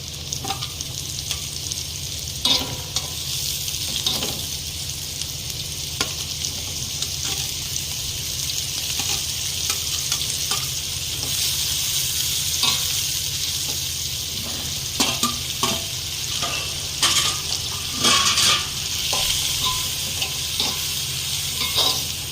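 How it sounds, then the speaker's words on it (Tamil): Mushrooms added to fried onions in a pan for mushroom soup, sizzling loudly and steadily for over twenty seconds, with occasional crackles and spoon clicks as the pan is stirred, no talking. "இப்போ வந்து மஷ்ரூம் சேர்த்துக்கலாம் 1 by 1."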